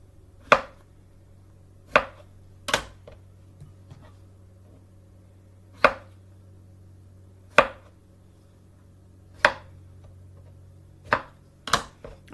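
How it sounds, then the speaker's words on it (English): A knife chops strawberries on a cutting board, about nine sharp, close knocks at irregular intervals, some widely spaced and a few in quick succession, over a faint low hum. "I'm going to chop up some more, get about 4 cups"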